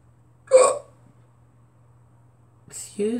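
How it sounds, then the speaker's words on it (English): A single sharp hiccup breaks a quiet room, followed by silence and then a voice starting to speak. "Excuse me, that was a hiccup."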